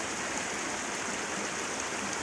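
Water of a mountain spring in Azad Kashmir flowing steadily, a continuous close rushing and splashing wash with no break and no talking.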